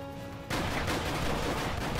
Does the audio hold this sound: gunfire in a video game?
yes